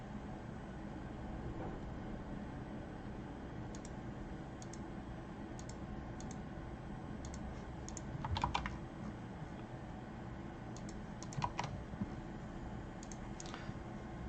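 Python code being typed on a computer keyboard, with soft, quiet keystroke clicks in a steady but uneven run and a couple of brief, busier bursts of keys over low room hum.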